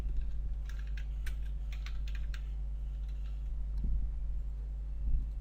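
Close computer keyboard typing in Illustrator: a quick run of light key clicks that trails off into a couple of isolated taps, over a low steady hum.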